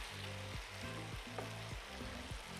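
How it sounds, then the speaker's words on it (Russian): Grated potato rösti fries undisturbed in a pan, giving a steady, close crackling sizzle that runs throughout, with a low, rhythmic tonal layer pulsing underneath. "мы жарим где-то 5-10 минут, в общем, до румяной корочки на той стороне, на нижней"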